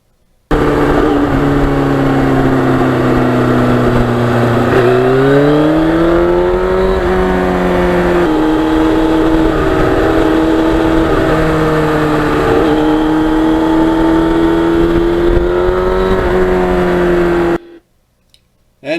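A 1991 Yamaha FZR motorcycle engine hums steadily while being ridden, its pitch sliding up and down with the throttle for about seventeen seconds before cutting off abruptly.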